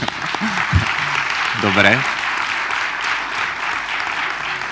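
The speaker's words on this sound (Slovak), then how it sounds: "pošlite mu potlesk, aby sa zotavil" Audience applause at a 30th birthday celebration for a Slovak publication, a broad steady wash of clapping that fills the clip, with a voice speaking briefly near the start.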